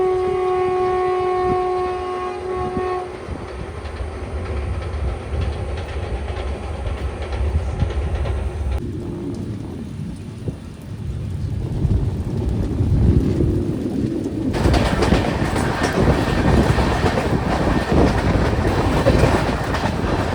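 The Padatik Express train runs on rails toward NJP, a loud continuous rumble with rhythmic clickety-clack of wheels, shifting in tone partway through as the carriage noise changes, with no voices.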